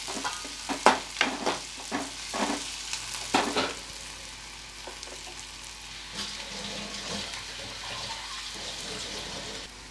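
Onions fry in a pan with a steady sizzle, and several sharp scraping stirs sound early on before the frying settles into a quieter, even hiss.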